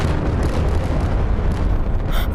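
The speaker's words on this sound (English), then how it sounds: "Oh, it's making an explosion!" A huge explosion in the Animal Company VR game roars as a sustained, loud, dense blast rumble across the whole stretch, with no talk over it.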